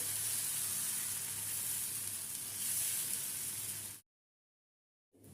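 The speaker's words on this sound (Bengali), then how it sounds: "এবার আমি এখানে দিয়ে দেবো 1 চামচ মুগ ডালের ব্যাটার, দিয়ে আমি আস্তে আস্তে গোল করে ঘুরিয়ে নেব।" Mung dal dosa batter sizzling in an oil-brushed frying pan, a steady bright hiss held close and even for about four seconds before it cuts out briefly, no voices.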